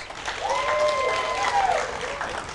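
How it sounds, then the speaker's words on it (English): Audience applause at the end of a talk session, a soft, even wash of clapping that carries on throughout, with some faint tonal sound mixed in and no speech. "SRM applause."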